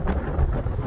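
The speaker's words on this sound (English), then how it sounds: "it's very windy up here." Wind at the Black Rock Gap mountain overlook buffets the microphone in a steady, loud low rumble that swells briefly near the middle, with no voices.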